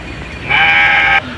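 A sheep in a pen gives one loud, close bleat lasting under a second, steady and nasal, set against a quiet room hum.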